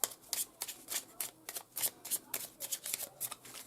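Tarot cards are shuffled and drawn during a reading, giving a run of quick, close riffling bursts in a steady rhythm, fairly soft and alone.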